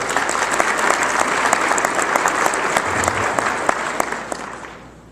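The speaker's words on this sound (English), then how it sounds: "So a round of applause for everybody here." A conference audience applauds: dense, steady clapping from a sizable crowd indoors, loud and sustained, then fading out near the end.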